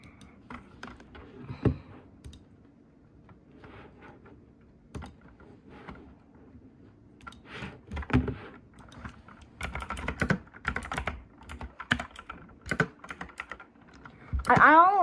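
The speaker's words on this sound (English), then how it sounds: "So that you have to hear like keyboard noises and stuff." Close-up computer keyboard typing in irregular bursts of clicks, quiet stretches between, growing busier toward the end.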